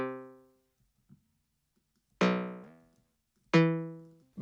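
Snare drum fed fully wet through Ableton's Resonator effect rings out as three separate tonal, pitched hits with long decaying metallic tails, spaced apart by near-silence, fairly quiet overall.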